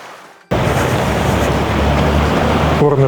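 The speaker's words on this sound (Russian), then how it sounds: "Горный ручей течет." A mountain stream flowing in the High Atlas, a loud, close, steady rush of water that starts abruptly and continues without pause, with a brief bit of other sound at the very end.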